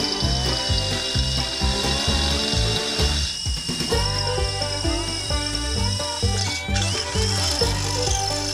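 A power drill punching holes in metal while building a cheap homemade carnival ride, a loud continuous whirring motor whine with a brief dip mid-clip, close up and sustained.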